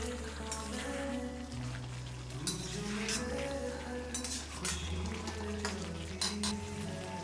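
Chicken karahi being stirred in a pan after green chilies, black pepper and yogurt go in, with a steady sizzle under repeated scraping and clinking of a utensil against the metal, close and fairly loud.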